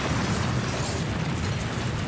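A loud, sustained truck bomb explosion roar fills the clip: dense, rumbling noise with no pauses and no voices.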